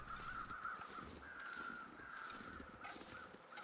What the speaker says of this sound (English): There is a set of crows through there somewhere.